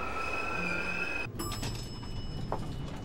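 A subway train in a movie scene rumbles steadily with a high squealing whine from the wheels, then a sudden shift to clattering car noise and faint metallic screeches, close and continuous.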